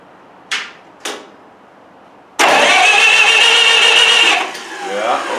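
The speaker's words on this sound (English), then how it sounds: "I just want to give it a crank and see that the lift pump's actually giving it fuel" Diesel engine with a diaphragm lift pump cranked over: two short clicks, then a loud, steady grinding crank of about two seconds that eases off into a quieter running tail.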